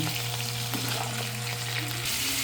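Pork and chicken pieces sizzle in hot oil in a pan, a steady, close frying hiss with a low hum underneath and no talking.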